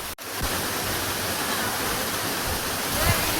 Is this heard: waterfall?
yes